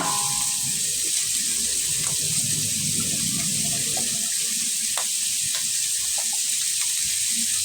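A pan washed under a running kitchen tap, with a steady rush of water throughout and faint clinks and scrapes scattered through it.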